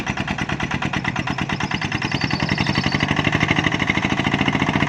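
Thai rot e-taen farm truck hauling a load of sugarcane, its single engine chugging in a fast, even thumping rhythm that grows slightly louder and steadier, close and alone without talk.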